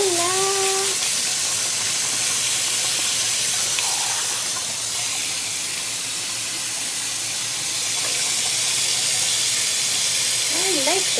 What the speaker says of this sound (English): Look, I'm washing my hands.